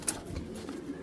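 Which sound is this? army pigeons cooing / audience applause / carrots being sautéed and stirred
army pigeons cooing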